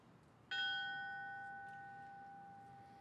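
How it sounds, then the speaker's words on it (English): A single memorial bell is struck once at a firefighter memorial ceremony, a clear ringing tone that sounds sharply and then decays slowly over several seconds in a quiet room. "Ringing the bell will be her father, Bob,"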